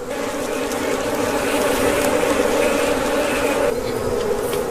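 Hundreds of angry African bees swarm inside a hollow tree guarding their honey, their dense, steady buzz holding close and loud throughout with a low drone beneath.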